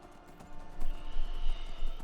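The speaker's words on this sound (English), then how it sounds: "Ooh, there's a random horse, and that's a pretty one too." Horse hooves clip-clop near stables in Skyrim, a run of uneven thumping footfalls that grows louder after the first half second over steady game ambience, with no voices.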